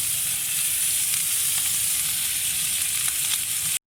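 Butter and garlic sizzle steadily in a pan on lowered heat as seared meat is basted, a bright continuous crackle that cuts off abruptly at the end.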